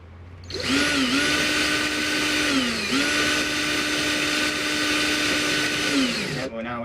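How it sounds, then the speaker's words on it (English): A power drill whines steadily at close range, its pitch dipping briefly under load as it bores through plastic model parts, then winding down to a stop. "It's got a lot of plastic to drill through at first."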